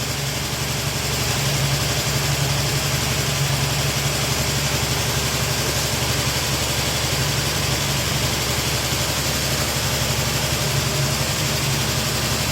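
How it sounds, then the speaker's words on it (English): Chrysler Valiant engine idling slightly high after a rebuild, a steady, even mid-low drone with constant vibration, close and unbroken throughout with no voices. "Just idling a bit high."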